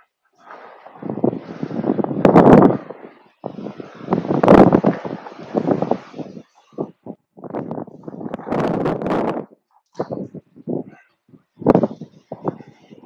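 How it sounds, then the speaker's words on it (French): Strong wind gusts batter the microphone in loud, irregular bursts separated by brief lulls, close and harsh. "C'est blindé de vent, c'est blindé de vent."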